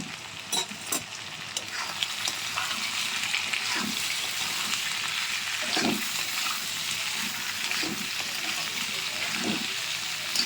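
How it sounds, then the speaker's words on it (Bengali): Potatoes are added to partly fried fish and fry in a hot pan. A continuous sizzling hiss runs throughout, broken by repeated stirring scrapes and clinks. No one speaks. "এবার এটা অর্ধেক ভাজা হয়ে গেছে, এবার আলুটা দিয়ে দিচ্ছি।"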